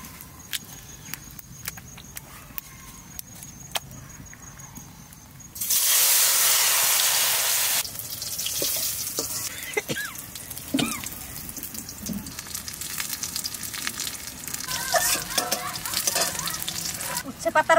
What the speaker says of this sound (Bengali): উচ্ছে পাতার বড়া এইভাবে আমরা ভেজে নেবো